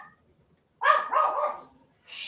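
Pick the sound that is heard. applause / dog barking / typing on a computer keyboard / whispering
dog barking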